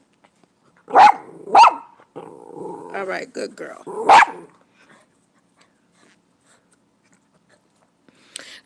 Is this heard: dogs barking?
yes